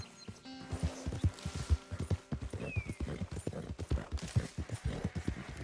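Horse hooves galloping in the video game Red Dead Redemption 2, a rapid rhythmic clip-clop of thudding hoofbeats with a brief whinny, moderately loud and continuous.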